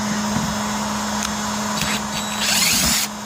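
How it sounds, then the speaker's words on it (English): A socket driver backs a screw out of a roof vent on a Lance truck camper, giving a steady, close mechanical whir that runs throughout and grows slightly busier toward the end. "Now we'll get our socket on it"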